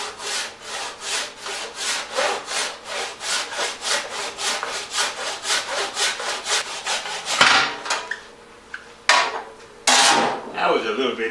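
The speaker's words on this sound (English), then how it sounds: "I think I will stop right here and saw" Hand-sawing through wood to cut off a platter blank on a lathe setup: about thirty close, loud, rhythmic rasping strokes, followed by a few scattered knocks and scrapes.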